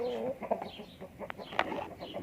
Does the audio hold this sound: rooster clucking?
yes